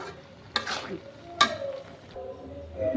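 A spoon stirs cooked bottle gourd and moong dal curry with a spoonful of ghee in the pan, making two or three distinct scraping strokes over a faint sizzle, up close.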